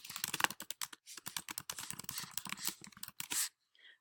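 Typing on a computer keyboard while entering an assignment answer: a fast, irregular run of close, crisp key clicks with brief pauses, no voices.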